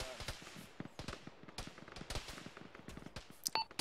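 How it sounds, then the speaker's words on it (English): Distant gunfire in the ArmA video game, scattered sharp pops and short bursts spread irregularly across the stretch, faint and far off, with some quiet voice chatter underneath. "The contacts engaging Charlie are taking pot shots at Delta, but that's it."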